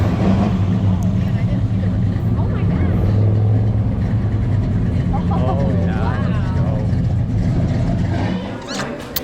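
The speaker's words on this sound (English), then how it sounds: "a little car show was heading out" Cars from a small car show drive out past the listener, their engines rumbling and revving loudly and continuously nearby before fading out, with a person's voice over the engine noise.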